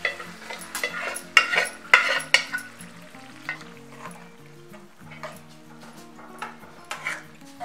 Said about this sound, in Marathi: आता हलवून घ्या असं सगळं।